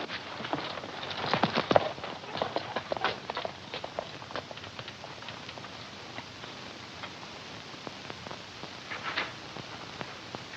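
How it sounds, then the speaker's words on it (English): Hooves clip-clopping at a steady trot, moderately close, with faint scattered ticks and shuffles in the background. "You and the boys get our horses and bring them around here."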